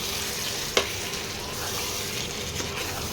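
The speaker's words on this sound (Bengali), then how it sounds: "এবারে আরেকটু কষিয়ে নিয়ে তারপরে জল দিতে হবে।" Spiced meat curry (kosha mangsho) is stir-fried with masala in a pan, making a continuous close sizzle with a sharp utensil clack near the start and a softer scrape later.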